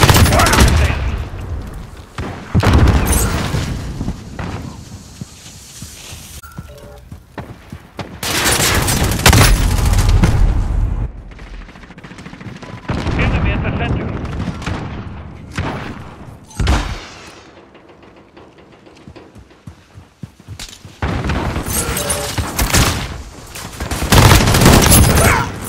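Gunfire and explosions in the video game Modern Warfare (2019), with loud bursts of rapid shooting and booming blasts that come in waves, split by short quieter stretches and overlapping game voice callouts.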